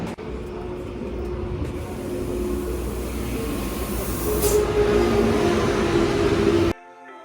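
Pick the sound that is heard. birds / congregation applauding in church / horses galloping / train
train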